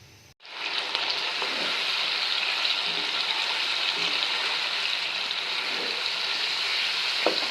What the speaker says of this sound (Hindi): प्याज को हल्की आंच पे ना लाइट सा ब्राउन करूँगी